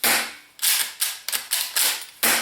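A Secutor Arms Invicta green gas airsoft shotgun fires about seven sharp, loud pops in quick succession, each a bright crack with a short hissing tail, close by and with no talking.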